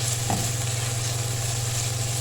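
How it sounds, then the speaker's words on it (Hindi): Ground cumin and spices frying in a pan for a ginger omelette, giving a steady close sizzle with a constant low hum running underneath and a brief stir near the start. "इसको थोड़ा सा फ्राई करेंगे"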